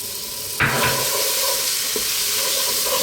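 Tomato paste is stirred into a hot pot for lamb bourguignon. There is a sudden loud sizzle as it hits, then a steady hissing fry with a scrape of stirring.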